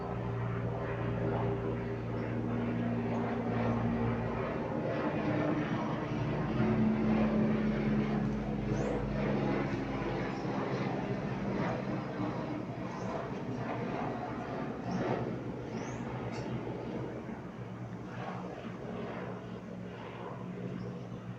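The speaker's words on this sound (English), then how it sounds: "that is actually a helicopter." A steady engine drone with a low rotor-like throb holds throughout, fairly loud and continuous, like a helicopter passing overhead with no talking.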